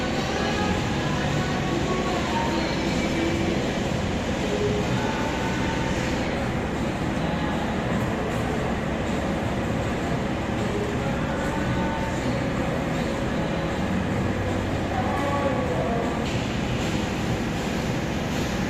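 The Cikuray passenger train pulls out of Kiara Condong station, a steady loud rumble of rolling cars and track noise continuing without a break, close by and with no one talking.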